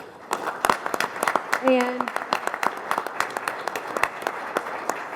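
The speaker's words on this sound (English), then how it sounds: "let's please give each of these teams a round of applause for their hard work and dedication to STEM and robotics" Applause at a Board of Education meeting for student robotics teams, a crowd of scattered claps over the room's hum, with a voice speaking briefly over it midway.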